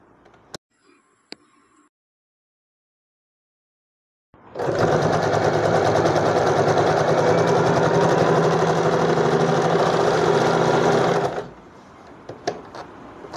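A sewing machine runs a bound seam with topstitching about 2 mm from the folded edge: one loud, steady, close whirring run of about seven seconds between quiet handling clicks.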